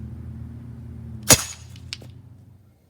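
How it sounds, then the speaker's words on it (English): A homemade pneumatic grappling hook gun pumped 40 times fires with a single sharp, loud crack, followed by a short clatter as the hook strikes something, over a low background hum. "Grappling gun with 40 pumps."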